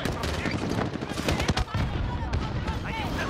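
Gunfire in the video game Call of Duty Modern Warfare, a dense burst of rapid shots and explosive cracks, loud and close, with a voice talking over parts of it.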